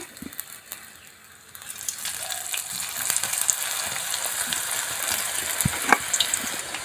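Meal maker (soy chunk) pakodi pieces drop one by one into hot oil, raising a steady, close bubbling sizzle that swells after a quieter start and continues with small pops and crackles.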